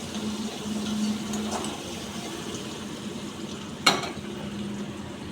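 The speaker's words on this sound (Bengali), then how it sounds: "পেঁয়াজ দিলাম, একটু ভাজা ভাজা করব।" Onions frying in a home kitchen pan, a steady low crackling sizzle running throughout with a brief sharp clatter near the middle and no talk.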